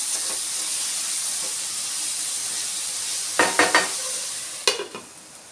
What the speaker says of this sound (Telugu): ఉప్పు, పసుపు వేసుకొని మళ్ళీ ఒకసారి కలుపుకుందాం